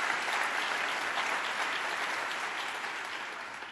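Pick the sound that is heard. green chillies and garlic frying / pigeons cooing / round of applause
round of applause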